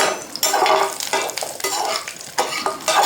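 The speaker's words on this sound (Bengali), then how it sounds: "এবার কাজু কিশমিশ ভেজে নিচ্ছি" Cashews and raisins fry in ghee in a wok. Close, loud sizzling runs the whole time, broken by spatula scrapes and stirring clatter.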